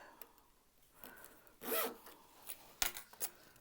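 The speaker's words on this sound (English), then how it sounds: "We are going to get started by attaching our zipper pulls." Metal zipper pulls are slid onto strips of zipper tape by hand. The result is faint, close rubbing and zipping rasps with a few sharp clicks, one longer scraping pull in the middle, and no talking.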